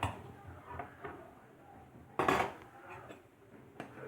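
Bulgur spooned into a deep plate: a few soft scrapes and light clinks of a spoon against the dish, one louder clatter in the middle, fairly close and with no talking.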